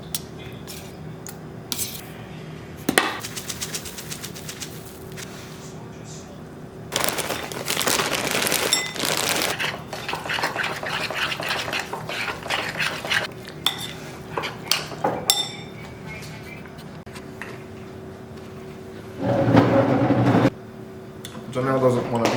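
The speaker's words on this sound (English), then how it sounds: "I'm gonna mix it in a bowl." Greek yogurt, oats, blueberries and almond milk are stirred in a bowl with a spoon, giving repeated clinks and scrapes of utensil on dish in irregular bursts, with a voice speaking in between.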